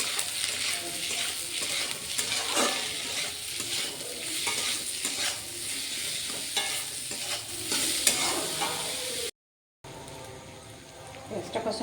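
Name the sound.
onions frying and being stirred in pan for chicken kosha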